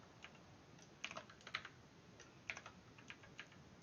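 Fingers tapping keys on a calculator while entering a long expression for a calculus approximation, a quiet irregular run of light clicks, close and faint, with no talk.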